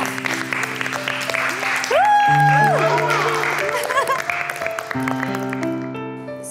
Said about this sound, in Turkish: Gelinimiz Kader, kayınvalidemiz Dilek, alkışlarla!